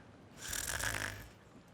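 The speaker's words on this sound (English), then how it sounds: "Oh, she's snoring." A female character in the video game Genshin Impact snores once, a single soft drawn-out breath with a rasping middle, heard alone with no talk.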